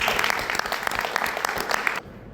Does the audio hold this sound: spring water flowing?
no